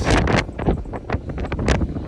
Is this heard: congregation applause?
no